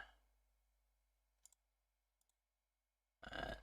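A few sharp computer mouse button clicks, sparse and faint, in a quiet room while a terminal is used, followed by a louder burst of noise at the end.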